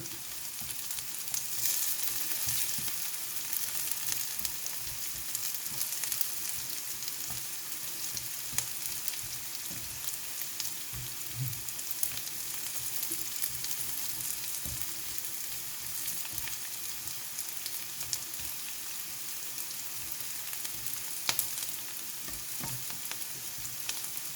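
Ham fries in a pan with a soft, continuous sizzle and crackle, faint and steady throughout, with occasional small pops and no voices.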